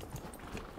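Horse hooves clip-clopping steadily in the fantasy video game Dragon Age: Inquisition, a continuous dense patter of walking hoofbeats throughout, with no talk over it.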